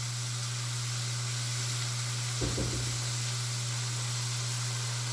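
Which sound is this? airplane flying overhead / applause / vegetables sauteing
vegetables sauteing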